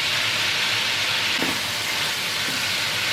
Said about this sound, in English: you want to get those onions into the oil, and let's start cooking them so they get a little translucent